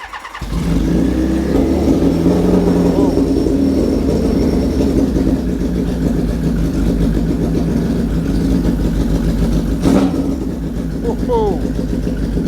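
A 1977 Kawasaki KZ1000 or Honda CB160 motorcycle, started with a jump box and choke on, runs with a loud, close, steady engine chug and a few rising revs, with voices talking over it.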